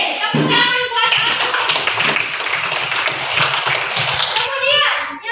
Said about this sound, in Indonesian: Tepuk tangan buat aku.